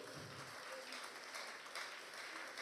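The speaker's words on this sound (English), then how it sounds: "Give yourselves a round of applause." Faint, distant applause from an audience at a presentation event, a soft continuous patter of many hands clapping with slight swells, heard from far back in the room.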